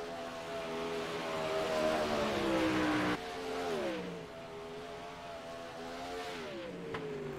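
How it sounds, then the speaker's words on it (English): Race cars on track during qualifying under green flag, a pair of engines droning and shifting pitch as they pass, loud and continuous, swelling then dropping away near the middle. "Green flag is out. We got 2 cars out on track."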